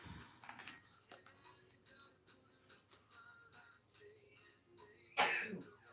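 A single sharp sneeze bursts out near the end of a quiet stretch, loud and close, after scattered soft rustles and small clicks.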